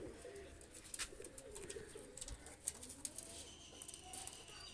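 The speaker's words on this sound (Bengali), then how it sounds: "এই দুইটা কবুতর অনেক সুন্দর এবং ভালো মানের কবুতর" Pakistani high flyer pigeons coo softly amid outdoor ambience, with scattered faint chirps and brief rustles, fairly quiet and continuous.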